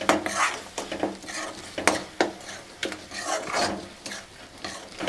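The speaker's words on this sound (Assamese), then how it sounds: "এনেকৈ ভাজি থাকিম অলপ টাইম।" Spices for egg curry, Kashmiri red chili powder and cumin powder, frying in a pan while being stirred, with close, repeated scraping and rasping strokes of a spoon against the pan over a soft sizzle, and no talking.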